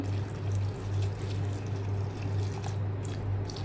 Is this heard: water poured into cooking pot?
yes